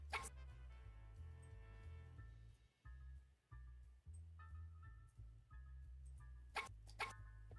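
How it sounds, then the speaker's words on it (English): A dog barks repeatedly in quick bursts, mid-distance, with a low rumble underneath and occasional sharper yips. "barking is important for the plot of this"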